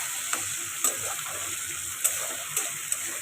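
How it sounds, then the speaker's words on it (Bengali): Ginger garlic paste frying in a pan and stirred, a steady close sizzle broken by a few sharp clicks of the spoon against the pan. "ভালো করে এটাকে ভাজবো যাতে কাঁচা গন্ধটা বেরিয়ে যায়"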